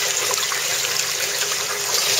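Water pours through an aquaponics bell siphon in a continuous, loud, close rushing gush with trickling texture and no breaks.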